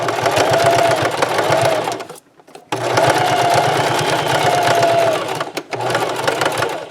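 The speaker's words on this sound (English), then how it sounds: "Back stitch that corner." A sewing machine runs at a steady, loud whir as it back stitches the corner of a fabric snap bag. Two sustained runs of stitching are split by a short pause while the direction reverses.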